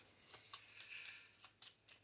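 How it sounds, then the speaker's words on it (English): Playing cards being shuffled in a solo card game, a run of soft papery riffles and quick flicks, several short bursts with a longer riffle in the middle, close and alone. "So we go to phase 2 and shuffle these cards."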